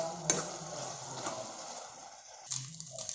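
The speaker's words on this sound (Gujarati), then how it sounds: "તો આપણે એને મિક્સ કરીશું સારી રીતે।" Vegetables with pav bhaji masala are stirred in a pan, a quiet sizzle under a couple of scraping strokes of the spoon, close-up with no voices.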